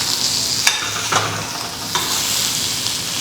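Washed banana stem pieces sizzling in a hot pan as they are stirred, a constant frying hiss broken by a few sharp scrapes and knocks of the spoon against the pan.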